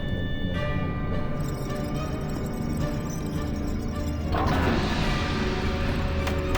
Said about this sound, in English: just keep banging on the glass